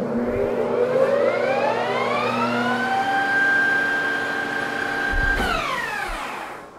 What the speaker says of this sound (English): We're in high speed, so this is 1800 RPMs with the 9-inch chuck, and I'm gonna hit the brake and it's gonna come to a complete stop.